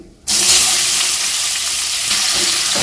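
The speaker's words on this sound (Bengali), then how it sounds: "এবার আমি এর মধ্যে দিয়ে দেবো পেঁয়াজ কুচি" Chopped onion hits hot oil with spices for potol chingri, bursting into a loud, sudden sizzle that holds as a steady close frying hiss after a brief quiet moment.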